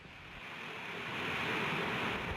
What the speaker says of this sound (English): We have engine start.